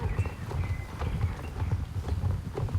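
Horses' hooves clip-clop steadily on the ground in the video game Star Stable Online, several animals at once, with a soft ambient background behind the busy, overlapping hoofbeats.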